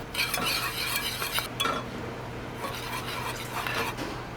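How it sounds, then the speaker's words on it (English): A whisk scraping and stirring through a thickened homemade cheese sauce in a pan, a continuous rhythmic swishing with a few metallic taps against the pot, close and alone. "Season it up with a little salt after it's thickened, and then whisk in the cheese"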